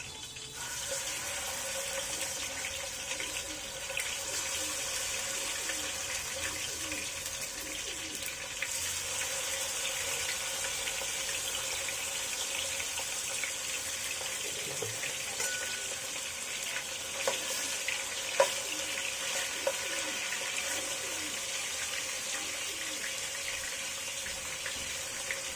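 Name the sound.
marinated chicken frying in oil in a pan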